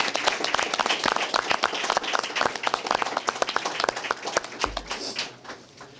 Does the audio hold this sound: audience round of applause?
yes